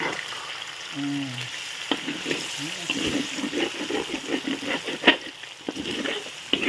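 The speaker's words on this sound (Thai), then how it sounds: "วันนี้ยายมาผัดข้าวนะคะ" A grandmother stir-fries rice with garlic pork and egg in a pan, giving a steady background sizzle with occasional scraping and stirring knocks while she talks over it.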